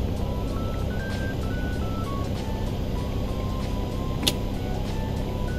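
A Boeing 737-800 jet engine spooling up toward idle in the X-Plane 11 flight simulator, a steady broadband rumble with faint rising whine tones, constant level throughout and one brief click near the end.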